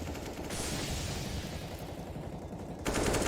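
Rapid CS:GO gunfire as a magazine is emptied, a dense sustained rattle of shots, fairly distant and moderate in level, swelling louder at the very end.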